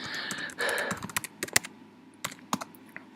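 Fingers tapping out a password on a computer keyboard, a run of quick clicks and irregular keystrokes at close range, with a brief rustle before the taps.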